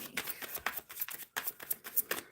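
Tarot cards being shuffled by hand, a quick run of soft papery riffles and slaps in irregular bursts, close and fairly quiet.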